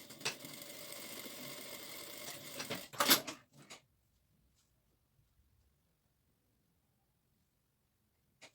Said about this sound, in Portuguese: e vou fazer a costura